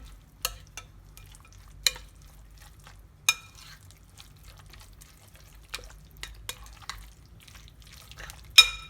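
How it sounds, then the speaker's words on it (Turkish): Homemade yogurt is stirred into a grated celery salad in a bowl, with soft wet squelching under a quiet background and several sharp clicks of the spoon against the bowl at irregular intervals. "Karıştırıyorum güzelce."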